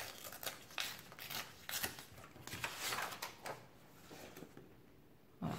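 Paper is torn slowly along a tear guide in a crafting setup, giving a series of soft, close ripping and scraping strokes in uneven bursts with quieter gaps and no talk.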